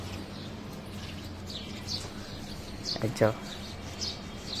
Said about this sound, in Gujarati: ચકલાનો અવાજ ચાલુ.